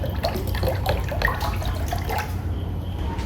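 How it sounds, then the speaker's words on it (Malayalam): One litre of coconut oil poured into a heated uruli pot while making homemade herbal hair oil: a steady, close liquid pour and splash that runs continuously for about three seconds, with no talking. "1 ലിറ്റർ വെളിച്ചെണ്ണ നമ്മൾ ചൂടായിട്ടിരിക്കുന്ന ഉരുളിയിലേക്ക് ഒഴിക്കണം."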